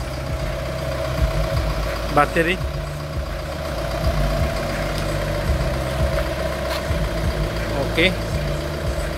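A 2004 Kia Carnival engine idles with a steady low hum and light mechanical ticking under the open hood, while someone speaks briefly nearby.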